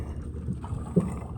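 A boat engine rumbles at a steady low idle, moderately close and unaccompanied by talk, with one brief louder knock near the middle.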